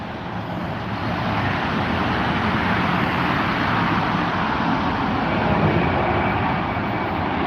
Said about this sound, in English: As another BA Tiddler goes overhead.